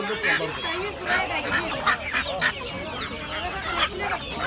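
Geese honk repeatedly amid a busy crowd of poultry at a poultry market in Adana, with people talking in the background; loud, overlapping calls throughout.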